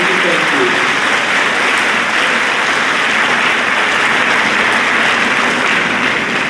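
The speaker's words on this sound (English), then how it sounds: "Please give them a round of applause for their national qualification." Audience applause fills a school spring awards assembly hall, a steady, dense wash of clapping from many hands, loud and sustained without letup.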